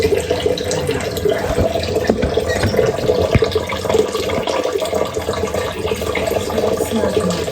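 Water runs steadily from a tap while dishes are washed, a close, constant splashing rush with occasional clinks, no pauses throughout.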